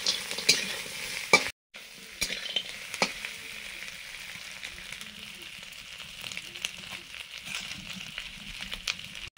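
Vegetables sizzle and crackle in a hot pan, stirred now and then with scraping clatters, steady and close with no talking.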